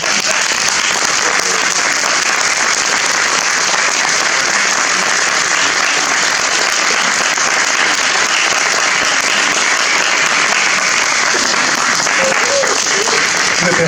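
Sustained loud applause from a conference audience, dense continuous clapping that fills the room evenly for about fourteen seconds.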